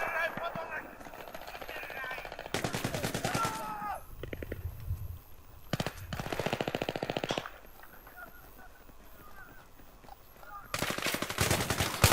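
Bursts of automatic gunfire in Battlefield 3 multiplayer: several loud, rapid rattling volleys separated by quieter gaps, with a voice heard between the shots.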